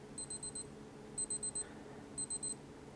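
A Casio G-Shock G-7800 digital watch (module 3163) sounds its alarm: three quick bursts of four high electronic beeps each, evenly spaced about a second apart, clear and close.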